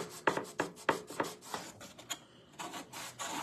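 Paste scraper dragged across a reusable crafting surface to lift a layer of chalk paste, giving a series of short, quiet rasping strokes in a quick uneven rhythm, close up and with no voices.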